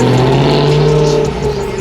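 A car engine revs hard at a casual Sunday car meet, loud and close with a steady rumbling drone throughout the short burst.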